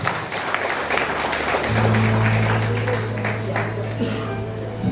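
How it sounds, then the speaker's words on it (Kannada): An audience of Lions club members at a felicitation event bursts into dense, sustained applause, many hands clapping together for several seconds, with a steady electronic hum from the sound system beneath. "ನಿಮ್ಮೆಲ್ಲರ ಭರ್ಜರಿ ಚಪ್ಪಾಳೆ."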